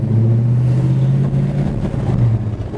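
A 1969 Plymouth Road Runner pulls hard out on the road, its engine droning loud and close with a steady low roar, the pitch easing back around the two-and-a-half-second mark as it shifts up.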